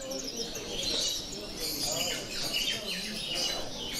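Ornamental birds such as goldfinches singing at an Algerian bird championship, bright chirps and warbling phrases overlapping continuously amid a lively hall with faint background chatter.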